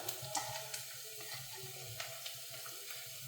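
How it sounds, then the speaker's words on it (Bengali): Crushed ginger-garlic paste frying in a pan makes a soft, continuous crackling sizzle, with faint clicks and scrapes scattered through it. "আদা রসুন বাটা যেটা থেতো করে রেখেছিলাম ওটা দিয়ে দেবো"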